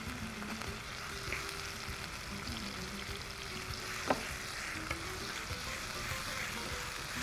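Onion, tomato and ginger-garlic paste fry while being stirred, giving a soft, continuous sizzle with faint scraping strokes and one sharp clink of the spoon against the pan, heard alone without voices.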